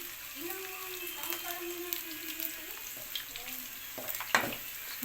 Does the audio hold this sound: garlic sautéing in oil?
yes